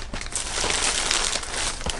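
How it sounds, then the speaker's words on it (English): A plastic bag is cut open and handled up close, producing steady loud crinkling and rustling that fills the whole moment with no talking. "let's cut into this plastic bag"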